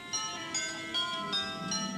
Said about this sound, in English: Santa was checking over his list one last time when the doorbell rang.